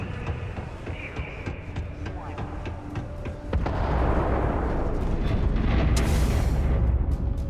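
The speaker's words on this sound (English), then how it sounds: "Particle detonation concluded." A particle detonation explosion in the Starfield video game, a sudden heavy rumbling blast that swells and lingers after a stretch of quieter game ambience with scattered clicks.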